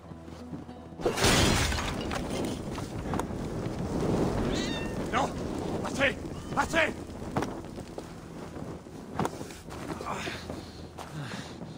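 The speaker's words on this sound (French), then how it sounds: "Combien de chats as-tu ? Ce sont les petits de Sphinx 7" Cats meowing in the video game Assassin's Creed Valhalla, several short meows scattered over about twelve seconds amid footsteps, wind and other game ambience, with a voice speaking at points.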